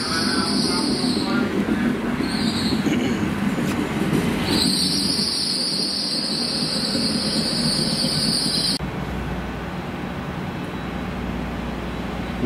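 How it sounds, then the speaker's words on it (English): A steam train, LMS Black 5 locomotive 44871 hauling the Pembroke Coast Express, rolls into Bridgend station nearby, wheels grinding and squealing on the rails under a steady rumble, with a loud high screech partway through. "Here we have the London train arriving at Bridgend"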